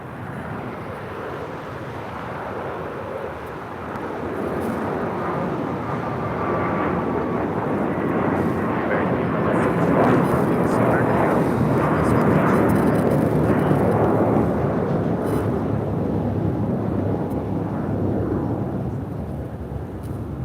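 An American Airlines A321 airliner passes at LAX with a broad jet roar that swells to a peak midway and then slowly fades, heard from a distance through wind.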